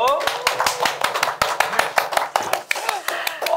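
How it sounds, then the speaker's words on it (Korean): A church congregation claps to celebrate a baptism, a brisk run of sharp, distinct handclaps close by, with voices talking through it. "박수로 축하해 주십시오."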